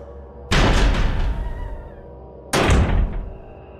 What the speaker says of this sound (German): Sie haben die Tür aufgeschlossen.